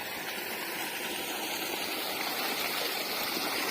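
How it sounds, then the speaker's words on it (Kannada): Water flowing steadily out of a pipe from a well, pumped without electricity or a motor, a continuous rushing, splashing stream heard close and fairly loud with no voices. "ಇಷ್ಟು ನೀರು ನಾವು ಬಾವಿನ ಇದರಿಂದನೇ ತುಂಬಿಸ್ಕೊಳ್ಳೋದು ನೀರು ಬರ್ತಾನೆ ಇದೆ ಇವಾಗ"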